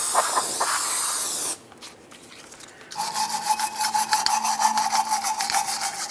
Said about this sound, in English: We'll use a little parts cleaner and a wire brush.